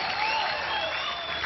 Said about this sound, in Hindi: जोरदार तालियां निकले हैं